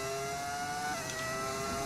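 A Lamborghini Formula 1 car fitted with a Ferrari engine in the F1 25 racing game holds a steady, high engine whine with sustained harmonic tones, loud and continuous without any voice.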